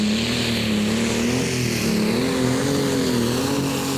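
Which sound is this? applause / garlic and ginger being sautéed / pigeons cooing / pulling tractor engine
pulling tractor engine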